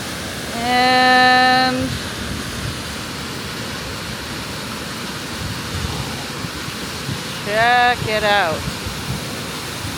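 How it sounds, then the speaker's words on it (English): Steady broadband rushing of a small waterfall in Waterton, Alberta fills the whole clip, with someone talking briefly over it near the start and again near the end. "Beautiful little waterfall."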